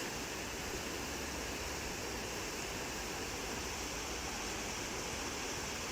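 Steady broadband rush of a gravel-bed river flowing, continuous and even throughout with no voices, a constant close wash of moving water.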